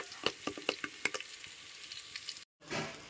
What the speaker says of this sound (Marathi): आणि मस्तपैकी हा घरचा कढीपत्ता आणि ही लसूण असं ह्याला फोडणी देणार